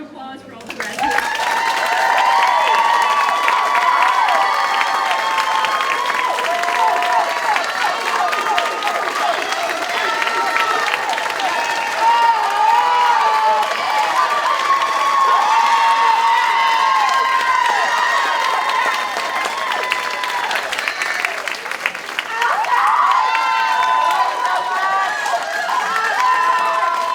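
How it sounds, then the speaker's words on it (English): A graduation ceremony audience gives the graduates a sustained round of applause, loud and continuous throughout, with cheering, excited shouts and voices rising over the clapping. "one more round of applause for all the graduates."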